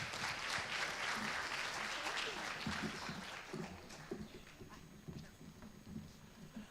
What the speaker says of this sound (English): Now let's continue the round of applause for Stefanini.